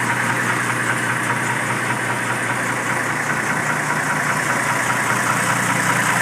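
Chevrolet D60 truck engine running after sitting for years, a dense, rough, continuous mechanical roar with knocking texture, steady and loud throughout with no speech.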